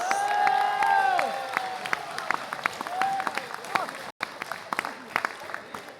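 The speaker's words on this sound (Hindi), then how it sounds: "अभी भी तालियों में दम है।" Audience at a financial education seminar applauds with steady clapping and some cheering, while a voice talks over the crowd throughout.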